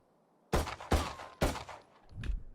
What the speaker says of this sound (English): These are the SMGs. Shoots really, really fast. 18 rounds a second.